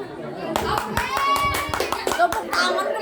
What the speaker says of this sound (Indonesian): Tepuk tangan kenapa sih?